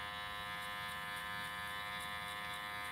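An electric hair clipper buzzes steadily and close up while cutting a boy's hair, a continuous even hum with no pauses and no talking.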